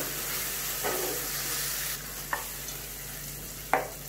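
Spice paste for a hot, sweet and tangy brinjal dish fries in oil with a soft, steady sizzle, and a few sharp clinks of a spoon stir it now and then.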